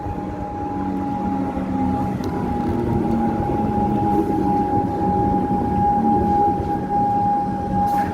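A train pulling into a station on the Glen Waverley line, a loud steady rumble with a sustained tonal whine running through it, close by and continuous.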